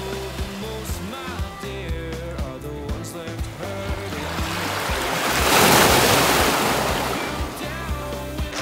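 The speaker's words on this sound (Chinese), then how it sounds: "这边是一个开阔的海湾秘境" Ocean waves wash into an open, secluded bay at Dongyin in Matsu, a broad surf roar swelling to a peak and easing again, with some talk over the rushing water.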